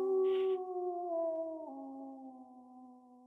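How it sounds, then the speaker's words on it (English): A howl sound effect for a spooky tabletop role-playing scene: one long, sustained, clear howl that holds steady, then slides down in pitch and fades out, with a faint noisy burst near the start. "At least four other howls coming from somewhere"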